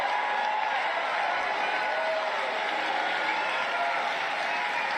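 Large audience at a CPAC political rally applauding and cheering, a steady wash of clapping and crowd noise with scattered whoops and indistinct voices, sustained and even throughout.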